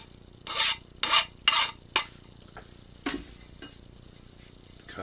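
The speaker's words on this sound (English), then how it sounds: "So I'm just deburring." A file rasps across the cut edge of an aluminum part in short strokes, five or six quick scrapes followed by a few lighter ticks and taps, close and fairly quiet with no talking.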